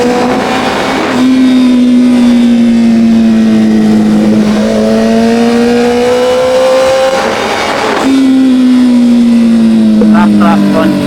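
A Kawasaki ZX6R sport bike engine revs hard and loud, close by, in two long rising-and-falling sweeps with a steady high-pitched whine in between.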